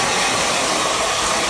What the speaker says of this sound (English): just a hair dryer over the top of that